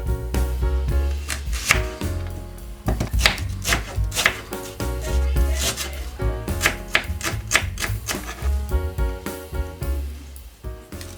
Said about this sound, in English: So you can chop off the bottom bits of the Korean chives and then cut it about a centimeter,